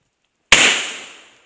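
A single sharp shotgun blast fired at a squirrel during a hunt, loud and close after silence, with a short echoing decay that fades out within about a second.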